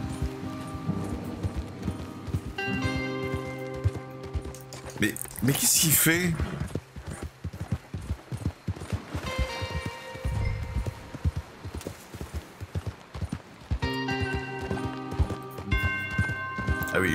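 Horse hooves clip-clop at a steady gallop in Red Dead Redemption 2, close and rhythmic, while someone talks over them and a brief loud burst interrupts midway.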